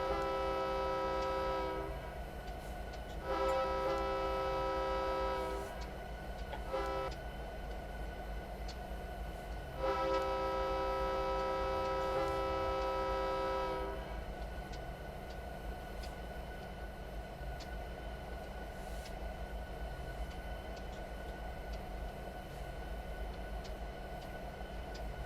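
A Union Pacific SD70M freight locomotive on Donner Pass in Train Simulator sounds several long horn blasts in a repeating pattern over a continuous low engine rumble that carries on steadily after the horn stops.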